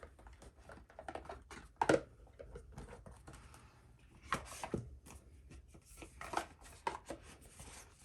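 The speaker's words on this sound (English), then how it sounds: "I'm just going to move some of these cards out of the way." Tarot cards slid and shuffled across a table, with soft scattered taps and rustles, a few louder clacks, close and quiet with no talking.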